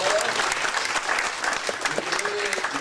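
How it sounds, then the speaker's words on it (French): An audience applauds continuously for a short stretch, a dense patter of many hands clapping at close range. A few voices mix in beneath the clapping. "Je vous demande d'applaudir."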